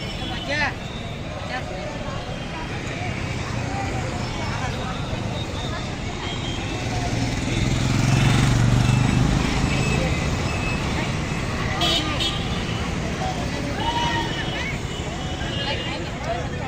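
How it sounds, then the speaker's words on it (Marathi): A busy street at Laxmi market with fruit carts, where a steady roar of traffic and crowd noise swells in the middle while people talk nearby throughout. "लक्ष्मी मार्केटमध्ये आहे आता आम्ही इथं कोंबार बसलेत इथं"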